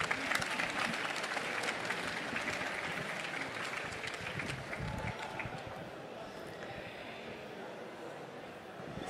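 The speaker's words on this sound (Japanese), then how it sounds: "一度皆さんに拍手を送りください" Audience applause at the final of the Japan Cup Tasters Championship 2023, a moderate, somewhat distant wash of clapping that stays fairly steady and fades a little toward the end, with some voices mixed in.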